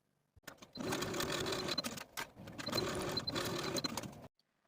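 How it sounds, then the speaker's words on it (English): Sewing machine stitching the facing shoulder seams of a silk dress, two steady runs of rapid, close mechanical whirring separated by a brief pause, with no talking. "Sew your facing shoulder seams with a 5/8 inch seam allowance"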